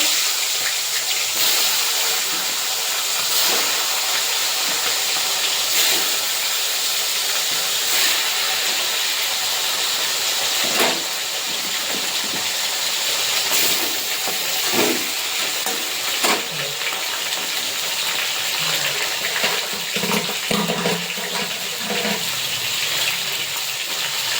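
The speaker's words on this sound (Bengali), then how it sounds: "তেল গরম হয়ে গেছে, মাছের ভেজে নেব।" A fish head fries in hot oil in a wok, giving a loud, continuous hissing sizzle through the whole stretch with scattered sharper crackles and occasional utensil knocks, close by and without talk.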